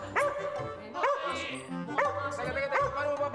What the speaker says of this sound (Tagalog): Pwede bang patayin lang niyang asong yan?